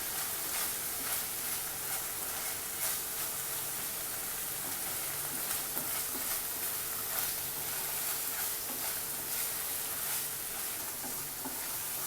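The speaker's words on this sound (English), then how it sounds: "Stir it well. The onions should turn brown." Onions and paneer fry in a pan while being stirred, a steady soft sizzle with faint scraping and stirring clicks, quiet and even, with no one talking.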